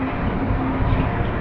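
Amrit Bharat Express 20604, Nagercoil to New Jalpaiguri, rolling past at an Indian railway station: a steady, loud rumble with a faint tonal hum, continuous throughout.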